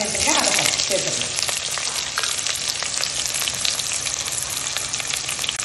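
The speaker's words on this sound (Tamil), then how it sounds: "இப்போ நம்ம வெங்காயம் இந்த அளவுக்கு நல்லா வதங்கணும்" Onions sauté in hot oil with black cardamom, cloves and cinnamon for pulao, a dense, loud, steady sizzle and crackle heard close up throughout, with occasional faint stirring.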